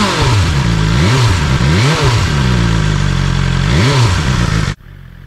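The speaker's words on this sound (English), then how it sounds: "Let's hear the engine." A 2021–2022 BMW S1000 XR motorcycle's 1000cc engine revs hard several times, loud and close, its pitch climbing and falling in surges before cutting off abruptly.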